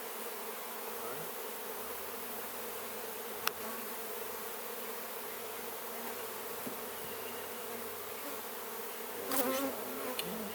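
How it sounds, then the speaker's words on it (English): Honeybees buzz steadily around a hive frame being handled at the edge of a stand, a continuous close insect drone with a brief louder flurry near the end. "Shake those bees off so I don't end up crushing them."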